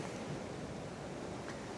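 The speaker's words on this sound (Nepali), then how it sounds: "के डरलाग्दो छाल आउनु यहाँ माथिसम्म आउँदो रहेछ" Ocean waves surging up a beach at Tel Aviv in the morning, a constant low rushing wash of surf, faint and steady with light wind noise.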